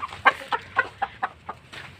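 Hens from a small backyard flock of about eleven, clucking close up in a steady rhythm of eight or so evenly spaced, clear calls with nothing else heard.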